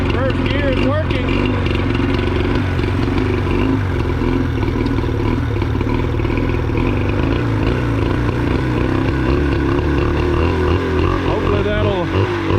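A 48HP Johnson outboard motor runs steadily in reverse gear, a continuous loud engine drone with little change in pitch over the whole stretch.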